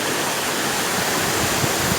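A waterfall at a summer campsite near Yalova roars steadily and loudly, a dense unbroken rush of falling water close by with no breaks.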